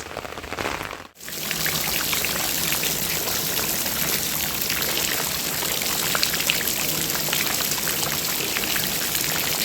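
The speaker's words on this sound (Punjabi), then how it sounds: "ਬਾਰਸ਼ ਰੁਕਣ ਦਾ ਨਾਂ ਨਹੀਂ ਲੈ ਰਹੀ" Heavy rain pouring down during a storm in Punjab, a dense, continuous hiss of drops striking surfaces after a brief dip at the start, loud and unbroken with no voices.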